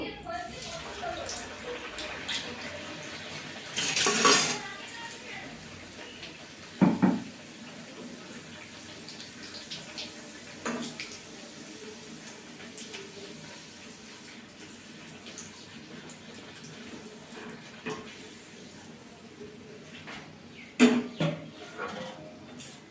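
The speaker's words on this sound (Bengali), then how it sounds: "তেল গরম হয়ে গেছে, আমি এক একটা কচুরি ছেড়ে ভেজে নেব" Bean-filled kachoris drop one at a time into hot oil and fry with a steady, watery sizzle, broken by a few sharp splashes and crackles.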